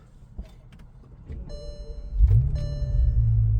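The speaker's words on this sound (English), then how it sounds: "That's the sound of a proper W12 engine" A W12 car engine fires up and settles into a deep, throaty idle, rising in loudness after some faint clicks and mechanical noises.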